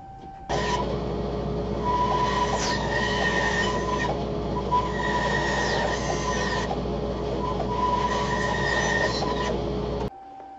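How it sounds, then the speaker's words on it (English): A bandsaw cutting the square corners off a wooden turning block, a continuous droning hum with whining tonal overtones and periodic scraping passes, steady and close for about ten seconds before stopping. "I'm going to knock the square corners off on a bandsaw"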